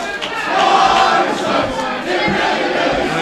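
A wrestling crowd at a live anniversary event shouts and jeers at the performer Arsenic, a loud, sustained roar of many voices with no single voice standing out.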